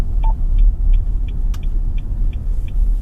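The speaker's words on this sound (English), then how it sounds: "This vehicle is just, one of the last V8s" A 2024 Nissan Patrol LE V8 on the move produces a steady, heavy low rumble inside the cabin, with a faint regular ticking repeating over it and no speech.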